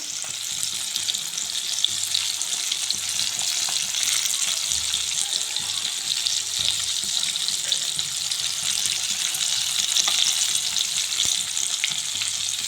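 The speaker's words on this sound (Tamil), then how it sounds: "லோ மீடியமில் அடுப்பை வச்சுட்டு நல்லா கொஞ்சம் நேரம் வேகட்டும்." KFC-style chicken pieces frying in oil on low-medium heat, a dense, steady sizzle that carries on unbroken for several seconds, loud and close, with no voices.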